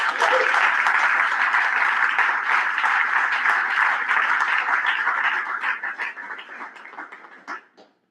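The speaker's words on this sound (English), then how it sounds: "So let's give them another round of applause." A crowd applauds the senior class at a FarmHouse Founders Day event, with dense, steady clapping for about five seconds that then thins into scattered claps and fades out.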